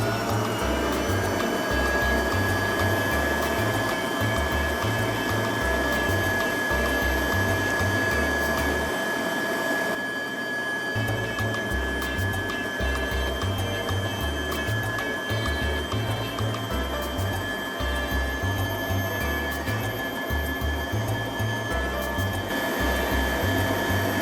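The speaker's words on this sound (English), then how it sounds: "And again, mix a little more." Chocolate cake batter is mixed with a steady mechanical whirring drone that runs throughout over a pulsing low hum, loud and close, with no talking.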